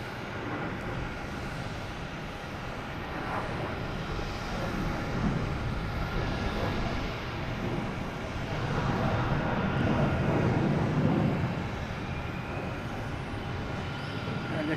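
A heavy jet airliner on approach to land at Boston Logan, a broad roaring rumble that swells gradually and stays steady at a middle distance, with faint talk nearby.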